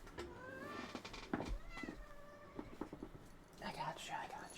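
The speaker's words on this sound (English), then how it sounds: "Kitty noises." A pet cat meows several times in short, rising calls, close by and fairly soft, mixed with a person's quiet voice speaking during a Minecraft stream.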